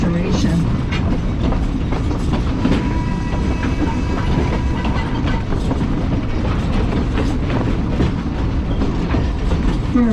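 Maine Narrow Gauge Railroad train running steadily along the rails near the Portland waterfront, a continuous loud rumble with rhythmic clickety-clack from the wheels throughout, close and dominant with no clear talk.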